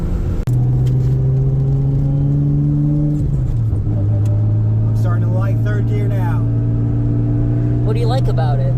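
A Nissan R32 Skyline GTS-t engine holds a loud steady drone, drops briefly during a shift from second to third, then settles into a lower pull while a person talks over it inside the cabin.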